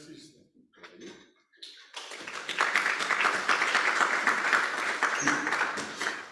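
An audience at a community gathering breaks into applause after brief speech, the clapping starting suddenly and continuing steadily, loud and dense, to the end.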